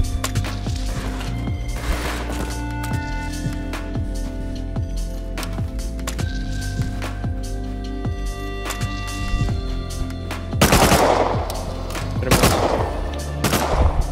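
Rapid bursts of automatic gunfire from an MP5 submachine gun in the console edition of the survival game Rust, loud and close, with repeated volleys and a heavier flurry of shots toward the end.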